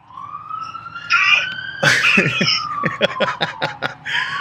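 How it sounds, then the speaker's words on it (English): A wailing police siren sweeps up and down close by, loud and steady, with a few short chuckling bursts mixed in. "There's sirens screaming."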